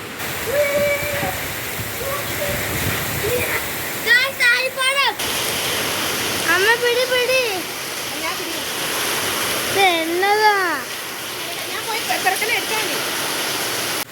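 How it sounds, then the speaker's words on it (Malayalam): Steady roar of heavy summer rain pouring down, with voices talking over it in several bursts. "ഇന്ന് നല്ല അട്ടിപ്പൊളി മഴ പെയ്തുകൊണ്ടിരിക്കുന്ന ഒരു രംഗമാണ്"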